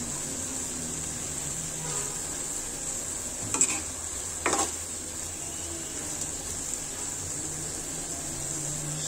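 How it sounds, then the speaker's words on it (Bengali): Greens with spices sizzle gently in a pan with the lid lifted, a steady low hiss broken near the middle by two short scraping stirs of a utensil. "নেড়ে দিচ্ছি।"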